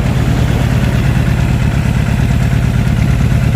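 A Suzuki Impulse 400cc motorcycle engine idles steadily with a loud, close, even low throb that holds without a break for the whole stretch, its carburetor being tuned and cleaned.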